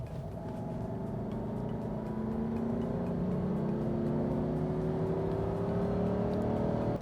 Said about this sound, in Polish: Zmierzę czas potrzebny na przyspieszenie od 60 do 90 km na godzinę. Gaz do dech.